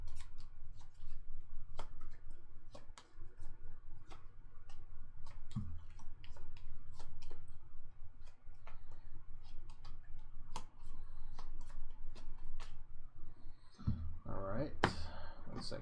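Playing cards riffled and shuffled repeatedly at close range for the solo card game Friday, a steady run of crisp flicks and clicks with a brief louder burst near the end, while a person talks over much of it.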